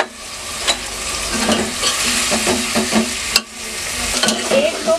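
Onions with garam masala frying in a pan for chicken biryani, a loud close sizzle broken by repeated scraping stirs and a couple of sharp utensil knocks, with no talk.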